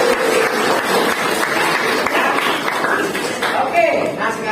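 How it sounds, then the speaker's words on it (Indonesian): Students in a high school maths class clap together, a dense, steady patter of many hands filling the room at fairly close range, with some voices mixed in. "Kita kembali beri tepuk tangan."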